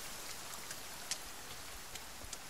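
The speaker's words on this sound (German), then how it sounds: "Mann, regnet das" Soft, steady rain hisses in the background of the video game The Forest, with a few scattered drops ticking louder now and then; no one speaks.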